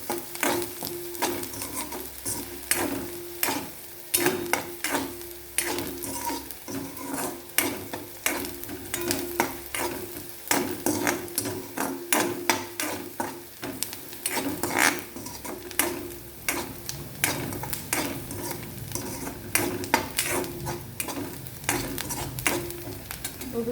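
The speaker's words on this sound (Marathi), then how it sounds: "बघू शकताय तुम्ही आपला कांदा भाजत आला" Chopped onion sizzles in a pan for masala bhindi while a spoon stirs and scrapes it, steady frying under repeated clatters of the spoon against the metal, close and continuous.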